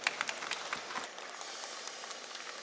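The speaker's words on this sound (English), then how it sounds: "Let's give Mark and Scott a round of applause" Audience applause for speakers Mark and Scott at a natural stone and quartzite seminar, a steady wash of clapping from the room that starts a little stronger and fades slightly but continues throughout.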